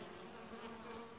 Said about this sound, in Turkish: Ve buradaki arı biraz hırçın.